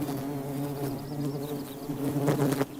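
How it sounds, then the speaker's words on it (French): Mating wild willow colletes bees buzz steadily and close by, a dense droning hum with shifting pitch that swells in a few louder bursts near the end. "Des bourdonnements accompagnent l'accouplement."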